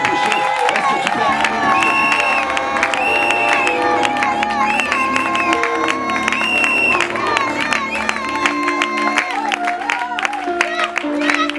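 A church congregation cheers and acclaims in worship, a dense crowd roar with shouts and clapping that runs loud and continuous, mixed with voices and music-like tones throughout.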